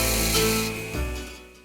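A belt grinder grinds metal, deburring and beveling the corners of a workpiece, a close abrasive hiss and rasp over the motor's hum that eases off as the piece comes away from the belt.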